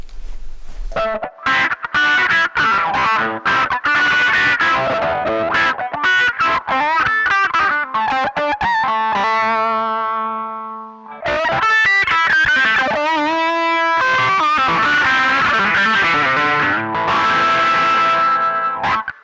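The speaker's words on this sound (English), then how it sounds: "And here's the wah paired up with the fuzz face." Electric guitar runs through wah and fuzz, with sweeping vowel-like tones and gritty sustained notes, played alone in bursts of phrases and held chords.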